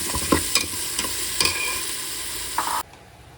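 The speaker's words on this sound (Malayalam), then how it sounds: "സവാള പെട്ടെന്ന് മൂത്ത് വരാനായിട്ടേ ഇച്ചിരി ഉപ്പ് കൂടി ഇട്ട് കൊടുത്തു" Sliced onions with a little salt sizzle in a pan for biryani while a spoon stirs them in several scraping strokes, and the sizzling cuts off abruptly near the end.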